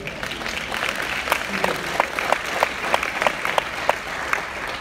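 An audience claps in a sparse, scattered way, loose individual claps rising over a murmuring room before fading.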